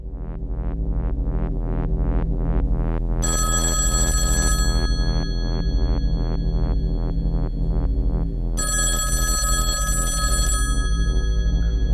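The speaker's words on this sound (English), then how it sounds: "are you going to answer the phone?" A telephone rings repeatedly in a steady throbbing pattern, with bright electronic bell tones layered over it in two bursts, loud and continuous throughout.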